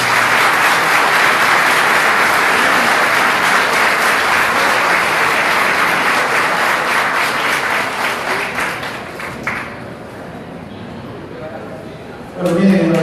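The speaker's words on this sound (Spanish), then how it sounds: "Un fuerte aplauso." A closing ceremony audience in Comayagüela breaks into sustained, loud applause that carries for about nine seconds before thinning out, after which a voice speaks.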